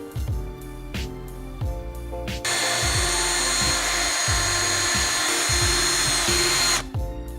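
A power drill driving screws to mount an aluminum plate in a turbocharged Mazda Miata, heard as close, loud whirring with short bursts followed by one long, steady run.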